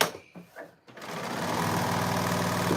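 A serger starts up after a few brief handling sounds and then runs in a steady, loud, close whir to the end.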